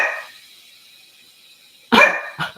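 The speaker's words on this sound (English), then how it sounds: "The water started running and my dog answered." A dog barks twice in quick succession, close and loud, after a fading hiss of running water and a stretch of near silence.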